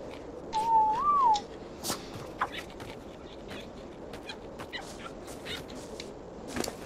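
A short rising-and-falling whistle in the Ark video game, heard once near the start over a steady, busy background of game ambience with scattered faint clicks.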